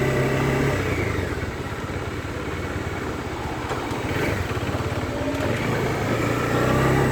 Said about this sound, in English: Engine is really smooth.